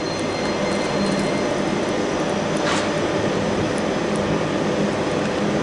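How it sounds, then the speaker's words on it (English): An elevator at Centre Place travels upward, giving a steady, unbroken mechanical hum and rumble that stays at an even loudness throughout. "Now let's send that lift up."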